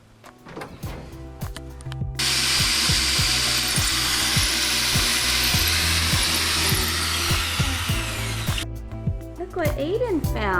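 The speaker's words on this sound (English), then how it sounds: "just pre-drilling some holes and putting these hooks in" A power drill pre-drills holes in shed rafters, starting with short bursts and then settling into a long, loud, steady whir before it cuts off, with a person talking around it.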